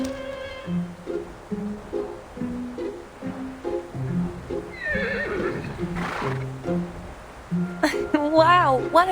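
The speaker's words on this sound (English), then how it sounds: "Sounds like a horse to me." A horse in the video game Reverse 1999 gives a clear, wavering whinny near the end, preceded by a steady plucked game music melody with soft background noise.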